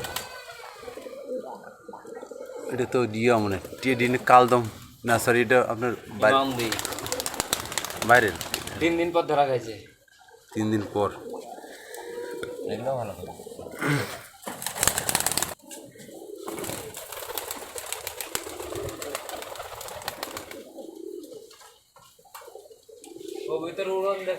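Long-bodied pigeons with clipped wings coo on and off nearby with bursts of wing flapping, under steady conversation from several people.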